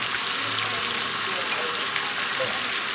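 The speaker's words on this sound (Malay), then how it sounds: "Ada air pancut." A fountain splashes into a fish pond outside a café, giving a steady, close wash of falling water that runs unbroken throughout.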